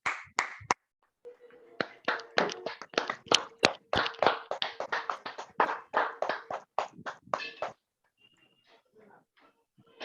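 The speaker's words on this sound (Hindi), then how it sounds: "मिलकर के ज़ोरदार तालियाँ बजाएँगे।" An audience claps loudly after a meditation session, a run of sharp individual claps in quick irregular rhythm that stops abruptly, leaving faint room noise.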